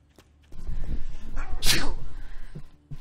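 A single loud, sharp human sneeze bursting out mid-stretch amid low background game noise and murmured voices.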